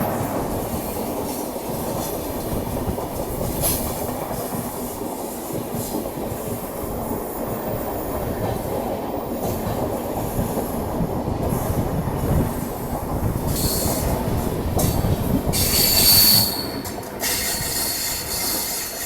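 The Gomti Express rolls past on the railway in India, a loud, steady rumble of wheels and carriages with rhythmic clatter and occasional high metallic squeals, heard from close beside the track.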